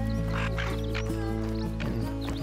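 Duck in The Hunter Call of the Wild hunting game quacking in a rapid, loud series of nasal calls over a constant low hum, close and without talk.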